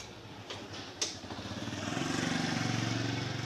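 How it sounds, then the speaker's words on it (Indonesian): Motorcycles pass by on a residential street near a house, engines rising from a faint clatter to a steady close drone as one rolls nearer, with a few sharp knocks early on. "Banyak motor lewat."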